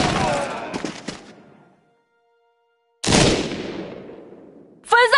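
Bursts of gunfire in the tactical game Banner of the Maid: a loud rattling volley that fades out, a pause of silence, then another sustained loud burst, closing with a sharp musical sting.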